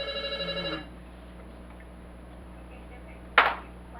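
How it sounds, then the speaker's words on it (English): A telephone rings in a home kitchen during dinner preparation, one electronic trilling burst that stops abruptly, followed by near silence and a sharp clatter. "And a phone call."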